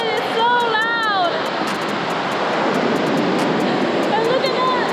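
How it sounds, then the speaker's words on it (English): Loud roaring waterfall at a roadside viewing spot, a steady broadband rush filling the background while someone talks excitedly over it. "This is a waterfall."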